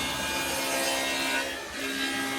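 A table saw cuts dados into the wooden sides of a storage cabinet, making a continuous rough, whirring grind of blade through wood that holds steady for the whole stretch and dips slightly once.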